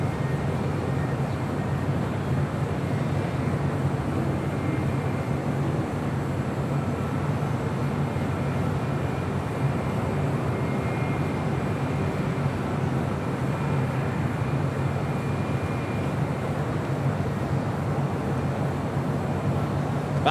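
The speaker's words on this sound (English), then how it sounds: "The JetBlue A321 in the first mint livery, heading on down for a Southside departure." A JetBlue Airbus A321 jet in its first Mint livery rolls out for a south-side departure at Los Angeles International, its engines a steady, broad roar held at an even level throughout, with no talk over it.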